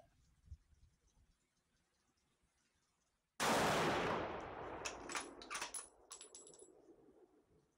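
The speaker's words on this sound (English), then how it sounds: "shooting through the jugs, and I want to see what these bullets look like" A single loud rifle shot from a CVA Cascade in 300 PRC, fired at water jugs, cracks out of near silence and is followed by a long reverberating decay with scattered tinkling and clattering debris.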